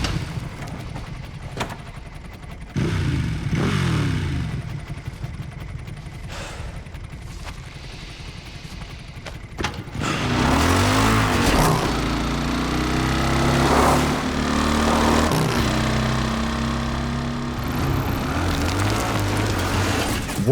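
A motorcycle engine in Resident Evil 9 Requiem idles and then revs up around halfway through, running loud and steady alongside a music score, with no voices over it.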